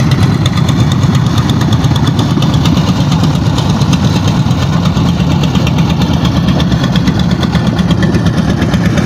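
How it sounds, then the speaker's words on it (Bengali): A heavy trawler boat engine chugs steadily throughout, a low rumbling drone with a rapid knocking pulse, loud and close with no voices. "ট্রলারটি যেতে খুব কষ্ট হচ্ছে"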